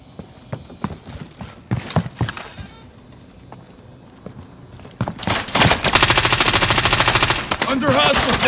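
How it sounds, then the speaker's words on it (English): Rapid automatic gunfire in the Warzone video game on Rebirth Island, with sparse single shots first, then a loud sustained burst of machine-gun fire close by. "Under hostile fire."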